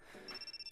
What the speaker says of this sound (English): Oh, my phone's ringing.